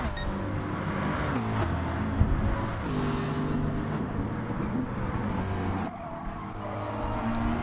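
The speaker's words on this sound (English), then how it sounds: "here's the Ferrari of Obi-Wan's nipped in front of Berserker" A Ferrari and other race cars in a racing video game, with dense overlapping engine drones rising and falling through gear shifts and faint tyre squeal, loud and continuous without voices.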